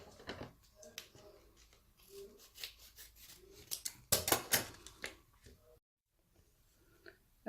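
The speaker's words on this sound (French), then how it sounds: "Je prends les ciseaux." Scissors handle a face mask packet up close, giving a run of faint sharp snips and crinkly clicks with rustling and quiet pauses between them.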